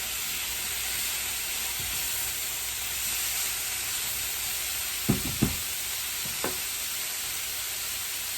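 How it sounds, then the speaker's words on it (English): Sauce simmering in a pan on a home hibachi setup, a steady broad sizzle throughout, with a few sharp utensil scrapes and clicks from stirring near the end; no talking. "just kind of keep stirring as you're watching it simmer"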